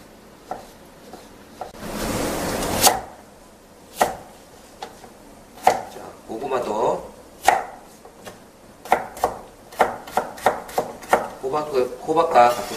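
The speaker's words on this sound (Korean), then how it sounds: "다음에 호박, 고구마 손질하겠습니다." Squash and sweet potato are cut with a knife on a board: a long scraping slice, then sharp, separate chops that speed into a quicker irregular run of close knocks.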